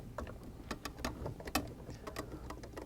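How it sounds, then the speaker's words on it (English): Soft, scattered clicks and metallic ticks from a ratchet or nut driver loosening screws on a water valve control head, faint and irregular over a few seconds. "Using either a 7/16 nut driver, ratchet, or slotted screwdriver, we loosen these screws."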